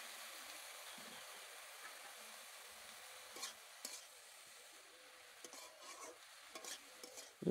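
Bottle gourd leaves are stirred with salt and turmeric in a cooking pan over a faint steady sizzle, with scattered soft scrapes and clinks of the spatula against the pan.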